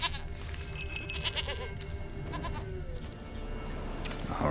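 Goat bleating in The Witcher 3, a few wavering cries close by over a steady game ambience, with no talking.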